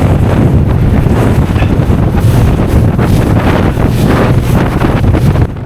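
Loud, constant roar of strong wind buffeting the microphone on a boat ride across Lake Simcoe in rough midday weather, with waves washing underneath and no talking.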